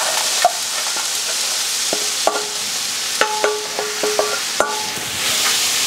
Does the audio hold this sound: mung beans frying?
yes